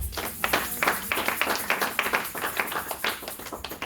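Hands clapping together in a church congregation, a dense, steady run of claps with an even rhythm that fills the room, moderately loud and close, with no voices over it.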